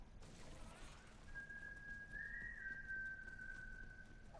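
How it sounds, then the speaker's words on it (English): A person whistles a sustained, wavering tune in Borderlands 3, a clear melodic line drifting over a low steady ambient hum in a dusty frontier town. "Someone was whistling."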